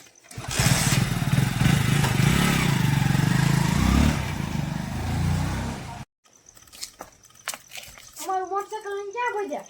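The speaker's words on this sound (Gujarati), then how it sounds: "અમે પચાસ હજારની મોટરસાયકલ લીધું" A motorcycle engine runs loud and close for about six seconds, a continuous rough drone that then cuts out abruptly, followed by people talking.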